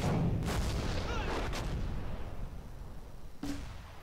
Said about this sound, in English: And here we see the explosions from the big guns.